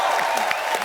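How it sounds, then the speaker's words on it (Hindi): Audience applause for Raju bhai on a TV comedy show, a short, steady burst of clapping from a studio crowd at moderate loudness with no pauses. "अरे राजू भाई के लिए जोरदार तालियां।"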